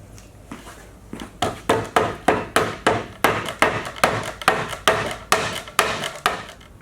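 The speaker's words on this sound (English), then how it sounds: "The bottom ones are going to have to be convinced to go in with the mallet" A mallet drives wooden dowels into an outdoor towel rack, striking in a steady run of sharp, loud knocks roughly three per second, starting hesitantly and then continuing evenly, close by with no voices.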